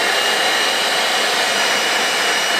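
Small vacuum cleaner with a clogged filter, running steadily at close range with a loud, even, broadband whine and hiss and no change in pitch.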